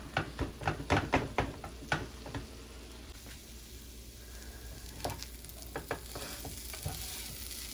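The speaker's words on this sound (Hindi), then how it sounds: "आपको बहुत ज़्यादा भूनना है, बहुत, जैसे कि आप हांडी बनाते हैं और आपका चिकन भुन जाता है" Chicken browning in a pan sizzles quietly under a series of sharp spatula scrapes and taps, clustered early and again near the end.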